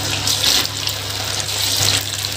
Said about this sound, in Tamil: இப்போ நம்ம எண்ணெயில் போட்டு ஃப்ரை பண்ண ஆரம்பிச்சுக்கலாங்க